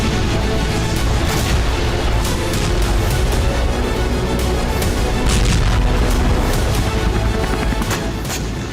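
Rapid loud booms and bursts from attacks in Zaporizhzhia during the Russia-Ukraine war, a dense sequence of sharp blasts and gunfire-like cracks over a constant roaring background.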